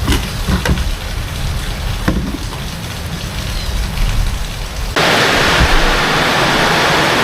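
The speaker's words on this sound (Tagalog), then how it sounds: "Walang tigil ang ulan" Steady rain hisses throughout, its broadband wash suddenly growing louder and denser partway through, with a few soft taps early on.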